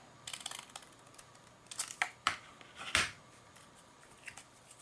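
Small snips close up as ends are cut off during clock assembly, a few quiet sharp clicks and cuts spread across a few seconds, with light handling rustle in between.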